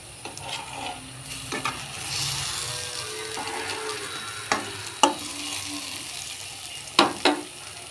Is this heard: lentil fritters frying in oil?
yes